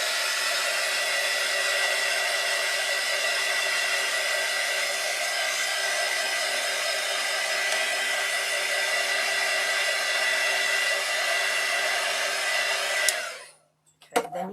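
A hair dryer runs steadily at close range while drying alcohol ink on a ceramic tile, a continuous loud whir that lasts the whole time and cuts off abruptly near the end.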